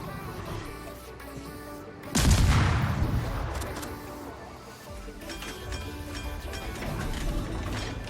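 Naval gunfire in the World of Warships video game: a loud booming salvo bursts out, then decays into rumbling background battle noise, with a voice faintly present.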